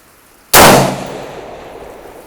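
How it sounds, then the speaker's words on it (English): A single sharp 6.5 Grendel rifle shot fired at a long-range steel target on a practice range, loud and close, with a sudden crack followed by a decaying echo and no voices. "Let's go for that diamond on the end with our last shot."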